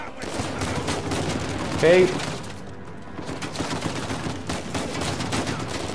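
Pistol gunfire in the Uncharted 4 video game, with repeated sharp shots in a fusillade over a steady game background and a player talking over the action.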